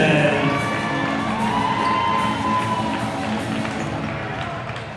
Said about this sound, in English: it's time to get on your feet as we cheer on our Lady Trojans